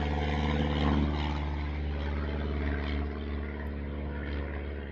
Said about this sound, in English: I'm going to see if I can edit out that plane flying over